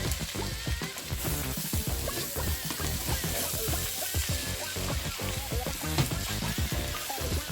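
Tuna fried rice stirred in a pan over medium heat, with steady loud sizzling and frying and frequent scraping and stirring knocks throughout, and no talk.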